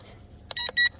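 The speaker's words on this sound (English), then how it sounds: "you'll hear the beeps, 2 beeps for level 2." Two short electronic beeps from the speed controller of a WLtoys 1/24 RC car in quick succession, clear and close, in an otherwise quiet moment.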